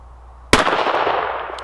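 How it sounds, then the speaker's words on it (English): One sharp, loud gunshot from a Smith & Wesson 642 .38 Special revolver firing 158 grain rounds at an outdoor target, with a sudden crack followed by a long, fading echo. "And missed on the last shot."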